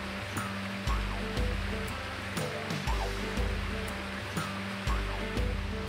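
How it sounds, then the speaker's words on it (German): Steady broadband rush of a stream flowing at the edge of a birch forest beside a lake in reindeer country, continuous and moderately loud with no voices. "Der Bach rauscht am Waldrand."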